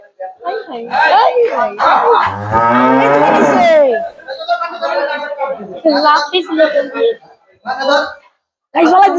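A household cow lets out one long, deep, drawn-out moo close by, with people talking before and after the call.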